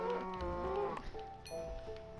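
A cow in the PS4 edition of Minecraft lets out a low, drawn-out moo that lasts about a second, followed by softer tonal game sounds.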